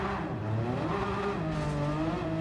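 Race cars launching from a grid start in the Gran Turismo 7 video game, a dense layered roar of several engines climbing in pitch together, steady and loud throughout.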